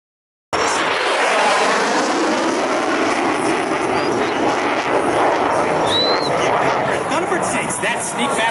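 A solo aircraft at an airshow roars past, its loud, broad, sustained rush bursting in abruptly and holding steady, with an announcer's voice faintly underneath.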